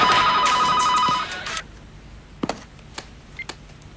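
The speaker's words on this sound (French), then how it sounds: "je vais appeler à la maison pour être sûre qu'elle fait pas de bêtises" A telephone rings loudly with a steady electronic trill for about a second and a half while someone calls home, then cuts off, leaving faint clicks and small handling noises.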